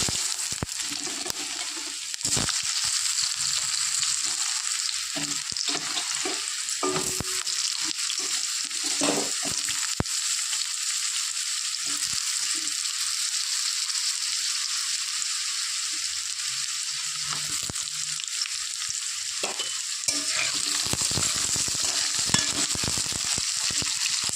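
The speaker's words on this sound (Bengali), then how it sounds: "আলু হালকা করে ভেজে নিয়েছি" Potatoes fry lightly in a pan with spices, a continuous, even hiss of hot oil with faint scraping and stirring knocks throughout, no voices.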